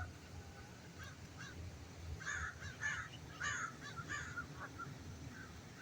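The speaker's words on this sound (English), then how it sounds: "All native birds, oh yeah." Native birds, including crows and mallards, call outdoors: a run of harsh cawing calls repeats irregularly for several seconds over a low, steady background rumble, moderately close.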